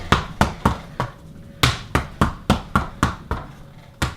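Fists land on a boxing heavy bag in a steady drill of about a dozen sharp, loud thumps, roughly three per second with one brief pause, close by and with no talk.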